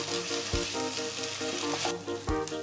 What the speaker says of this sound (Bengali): আদা রসুন বাটা আমি 2 মিনিট কষিয়ে নেব।